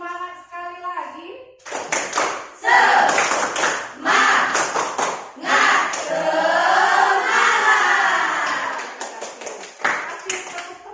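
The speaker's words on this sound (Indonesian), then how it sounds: "Tepuk semangat sekali lagi." A classroom of schoolchildren performs a rhythmic clap routine, bursts of sharp group clapping in patterned beats, mixed with the children's chanting and a teacher's voice giving cues.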